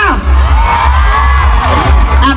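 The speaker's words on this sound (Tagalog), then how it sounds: "parinig ako ng palakpakan at hiyawan!" A loud mall event crowd clapping, cheering and whooping without a break, with excited shouts rising above a dense, steady wall of noise.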